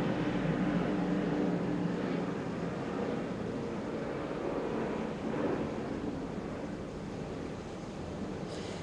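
Helicopters flying overhead in an outdoor city setting, a steady loud rumbling drone that fills the whole stretch with little change, heard alone without any voices.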